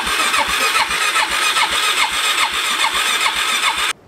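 A dirt bike that has not been started in a while is cranked repeatedly with a steady, rhythmic whirring and squealing, close and loud. It cuts off abruptly just before the end without firing up.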